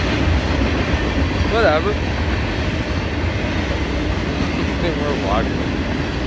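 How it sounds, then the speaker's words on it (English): A train rumbles past in the background with a continuous heavy roar and faint rail clatter, while people talk and walk nearby. "Except for that train behind me."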